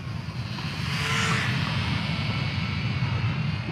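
Eachine Spitfire 400mm micro RC warbird in flight, its small electric motor giving a steady, moderately loud whine with broad airy wash that swells slightly around the middle and holds constant, no voices.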